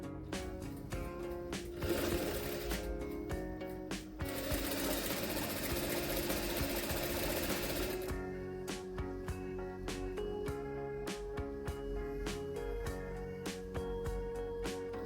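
A sewing machine stitches the seam of boxer shorts in rapid whirring runs, with a long loud continuous burst in the middle and shorter start-stop bursts around it, close and without talk.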